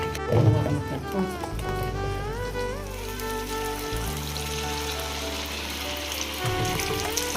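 Punugulu, rice-batter fritters, fry in hot oil with a steady crackling sizzle that runs throughout, while a person talks over it and low hums sit underneath.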